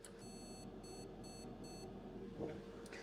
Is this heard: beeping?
yes